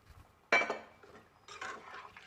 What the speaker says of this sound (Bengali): ভালো করে একটু নাড়াচাড়া করে নিচ্ছি।